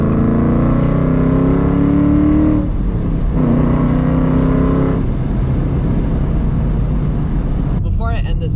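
A Ford Mustang running a ghost cam tune idles with a loud, throaty, uneven rumble close by, dipping briefly before settling into a choppy lope.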